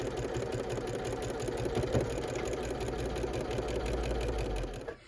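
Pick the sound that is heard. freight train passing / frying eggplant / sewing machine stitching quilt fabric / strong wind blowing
sewing machine stitching quilt fabric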